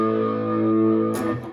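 An electric guitar strikes a single power chord of root and fifth through distortion, sustaining for about a second before being cut off with a brief scrape of the strings.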